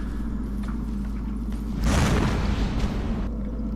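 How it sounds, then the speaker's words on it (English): A sudden loud burst in the Dark Souls 2 video game, a single broad explosion swelling for about a second and then fading into a low background hum. "there's a random explosion at the end when I died"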